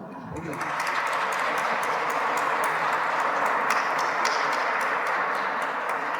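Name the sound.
congregation applauding in church at Ash Wednesday Mass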